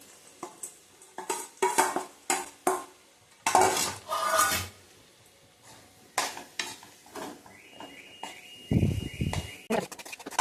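Fried soybeans tipped into a pan and stirred, with repeated scraping and clinking of a utensil against the metal, quick irregular bursts and a brief low thud near the end, no talking.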